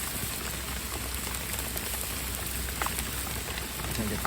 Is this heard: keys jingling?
no